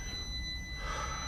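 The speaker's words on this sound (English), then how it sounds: "Excuse that beeping, but that's just gonna happen as long as it's on." A steady electronic tone drones from the power source of an electrolysis rust-removal setup, a faint continuous beep held evenly throughout with no talking.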